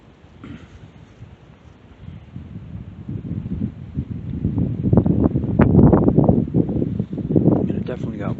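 On a day hike through a field at Meadowsweet Preserve, wind buffets the microphone in low rumbling gusts that build toward the middle and stay strong, with no talk heard.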